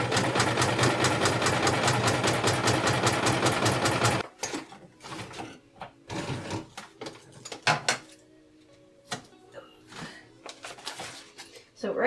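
A sewing machine stitches wings for fox bat and wyvern art dolls, running in a fast, even mechanical chatter for about four seconds before stopping. Scattered handling clicks and knocks follow.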